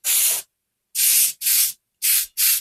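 A spray can lays a dusty coat onto a model diorama in five short, sharp hissing bursts separated by brief pauses, close and loud.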